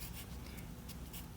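Pen or pencil writing numbers by hand on paper, soft scratchy strokes in a few short bursts, faint and close, with no talking.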